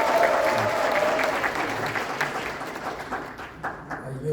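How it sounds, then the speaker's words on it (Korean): A room full of people applauds steadily at a seminar lecture, a dense wash of clapping that gradually fades toward the end. "큰 박수 부탁드립니다"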